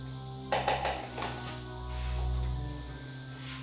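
A spoon clinks three times quickly against a bowl while seasoning sauce with minced garlic is mixed, followed by a soft low rumble and quiet scraping.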